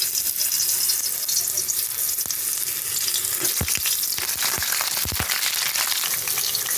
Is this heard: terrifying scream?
no